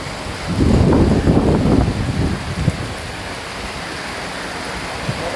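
Steady rain hisses continuously, with a louder, rougher burst near the start that eases into an even, dense patter filling the whole stretch.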